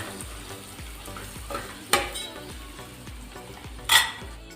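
Cluster bean (guvar) curry with green chillies is stirred in a sizzling pan. Steady frying crackle runs under rhythmic scraping strokes, with two louder clanks of the spoon against the metal pan.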